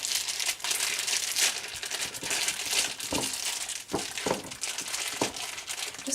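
Grass-fed minced steak is squashed and pressed out of plastic wrap, giving continuous close crinkling and crackling of plastic with a few sharper crunches, no talking.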